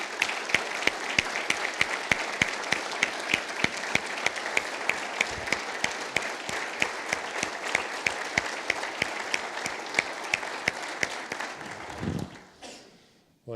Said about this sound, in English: Joan, a round of applause.